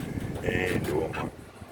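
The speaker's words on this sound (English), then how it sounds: "A bit blowy here today." Wind blows across an outdoor microphone with a low, blustery rumble, and a voice speaks briefly over it.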